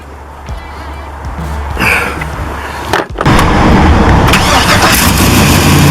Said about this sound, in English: That's the sound of a truck that's running.